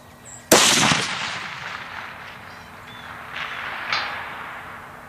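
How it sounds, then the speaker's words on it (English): A single sharp, loud shot from a Blue Mountain Tactical .308 rifle cracks outdoors, followed by a long echo rolling and fading over several seconds. "I'm gonna fire another shot and see if we can get it centered up."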